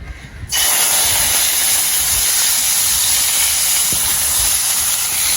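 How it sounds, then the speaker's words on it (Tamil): Onions dropped into hot oil for a traditional Jaffna fenugreek curry, bursting into a loud, sustained hiss of frying that continues steadily after a brief quieter moment. "இப்போ வெங்காயம் போட போகிறோம்"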